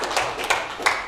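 At a university teaching-performance assessment session, three separate hand claps sound close together, spaced evenly apart, against a soft background.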